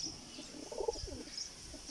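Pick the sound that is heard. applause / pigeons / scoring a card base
pigeons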